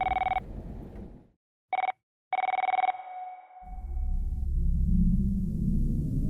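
A hotel room telephone rings in sharp electronic bursts, one long burst, a short one and another long one separated by silences, then a fading tone gives way to a low rumbling ambience.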